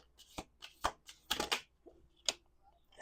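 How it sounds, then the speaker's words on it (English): A deck of tarot cards being shuffled by hand on a table, a series of quick, crisp riffling bursts close up, separated by short pauses. "I like these decks because I can shuffle the whole deck."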